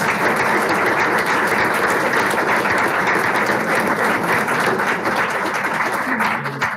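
Audience at a school district board meeting gives sustained, steady applause for a three-time state champion girls swim team, a thick wash of clapping that tails off at the end.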